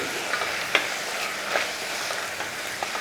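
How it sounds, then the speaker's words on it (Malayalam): Masala powder being stirred in a frying pan, a faint steady sizzle with a few soft scraping taps from the spoon throughout. "ഇനി നമുക്ക് ഇതൊന്ന് ഇളക്കി കൊടുക്കാം"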